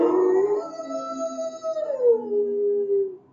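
A Fortnite Howl emote plays a single drawn-out wolf-like howl that starts high, glides down in pitch and fades out, loud and clear over silence.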